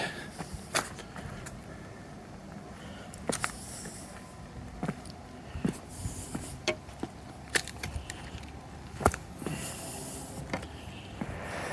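Road traffic on a main road by a trailhead in the White Mountains near Gorham, New Hampshire, rumbles steadily in the background, punctuated by scattered close clicks and knocks.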